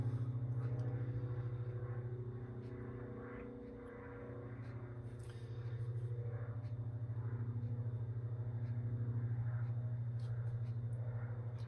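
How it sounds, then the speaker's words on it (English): A low-flying propeller light aircraft from a nearby aerodrome drones steadily overhead, its engine hum swelling and fading slightly over about twelve seconds with no talk. "Rather a low flying aeroplane."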